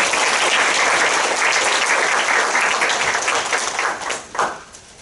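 An audience claps in broad, sustained applause to welcome presenters at a talk on the history of May Day, steady and full for several seconds before tapering off near the end.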